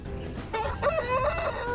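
A rooster crows once on a farm, a loud close call that starts with a short clucking lead-in and then breaks into a sustained, wavering cock-a-doodle-doo that lasts to the end.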